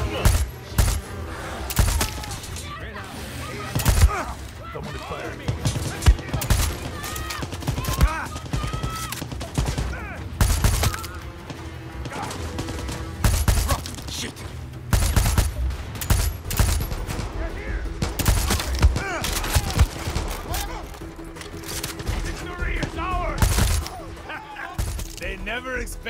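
Gunfire in the Far Cry 6 video game: a long run of rapid shots and bursts rings out amid battle clatter, with characters speaking over the fighting at intervals.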